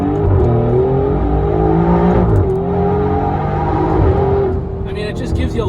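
A 2021 Alfa Romeo Giulia QV with an X-pipe exhaust mod drones steadily while driving, its loud engine note holding then shifting pitch, heard close and continuous.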